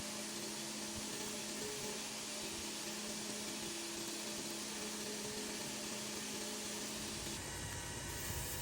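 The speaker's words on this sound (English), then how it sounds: "I will also use the small wheel to knock off the corners so it's a little more rounded" The small wheel of a belt grinder rounds the corners of a knife handle on a neck knife made from a file. It gives a steady, fairly faint whirring hum that runs without a break, its tone shifting slightly near the end.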